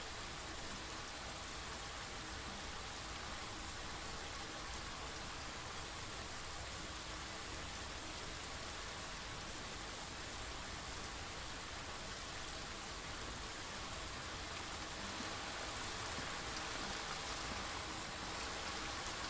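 Indoor rain in the video game Blue Prince, a steady, even hiss of rainfall with no breaks or variation, moderately quiet and heard alone.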